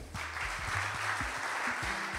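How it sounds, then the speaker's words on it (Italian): Audience applause in a civic gathering in Vaccarizzo Albanese, a steady broadband clatter of many hands filling the whole stretch while a voice speaks over it nearby. "Un applauso per Cinzia."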